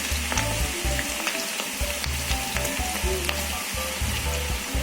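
Cabbage pakoda fritters deep-fry in hot oil, a loud, steady, close sizzle and bubbling that runs throughout with small crackles and no voices.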